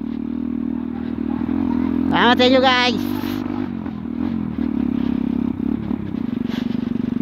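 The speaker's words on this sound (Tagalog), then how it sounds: "So, nagmamalfunction yung motor." A malfunctioning Motorstar MSX 125 trail motorcycle runs with a steady idle drone and clattering, scraping rattles, while someone speaks briefly over the engine near the middle.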